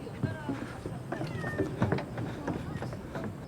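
A cat meows several times in short, rising cries close by, with voices murmuring in the background.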